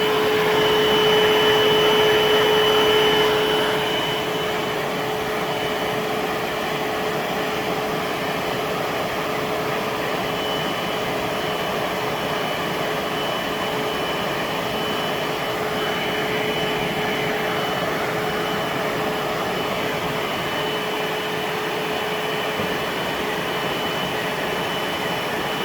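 A Bissell SpotBot Pet hands-free portable deep stain cleaner runs its drying cycle, a steady loud whirring motor roar with a high whine, slightly louder for the first few seconds and then even and continuous throughout.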